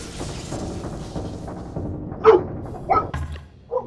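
In the Crawlspace FNaF fan game, a dog gives two or three sharp, short barks, fairly loud and close, over a low murky background hum.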